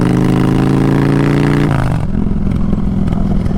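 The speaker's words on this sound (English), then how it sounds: "If you like that big V-twin thump." A Honda Fury V-twin motorcycle engine revs loudly and close up, a deep throbbing rumble that climbs in pitch, then drops back to a lumpy, pulsing idle.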